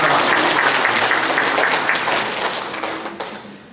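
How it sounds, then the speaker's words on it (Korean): A church congregation applauds in welcome for a visiting pastor and his wife. Loud, dense, close clapping holds steady, then gradually tapers off toward the end. "우리 박수로 환영하면서 잘 가시라고"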